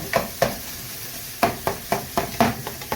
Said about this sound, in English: This makes it a lot easier to break that ground beef down.